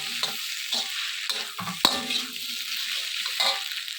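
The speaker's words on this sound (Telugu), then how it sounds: "ఈ విధంగా చిన్న చిన్న ముక్కల కింద అయ్యేంత వరకు బాగా వేయించుకోవాలి" Chopped egg fries in a pan for egg fried rice, with rhythmic spatula scrapes repeating over a loud, steady sizzle.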